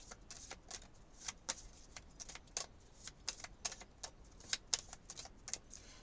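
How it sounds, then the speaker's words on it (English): Tarot cards are shuffled by hand, producing a quiet run of crisp, uneven clicks and flicks, close and faint, with no talk over them. "Shuffle."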